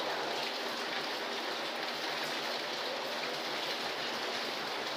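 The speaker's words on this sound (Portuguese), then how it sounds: "É que tava chovendo lá. Tá chovendo." Rain falling outdoors, a steady, even hiss of drops on surfaces that holds constant throughout without any voices.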